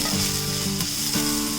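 Chopped onion (two medium onions) sizzling steadily in well-heated oil in a pan, a continuous close frying hiss with brief stirring shifts and no voices.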